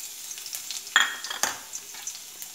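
Garlic paste hitting hot oil with cumin seeds in a kadhai, a quiet crackling sizzle with sharp spits and pops as it is stirred, close and steady with no talking.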